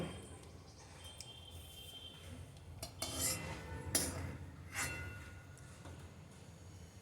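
Metal plate being shifted in a home kitchen, giving several sharp clinks and scrapes in a short cluster after a quiet stretch, close and moderately loud against faint background hum.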